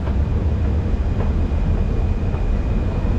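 Paris metro train running steadily with a loud, continuous low rumble and rail hum, a faint high whine above it, no talk.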